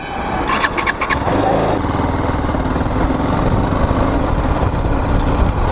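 A BMW 310 GS motorcycle engine cranks and catches about a second in, then settles into a loud, steady idle heard up close, with no talking.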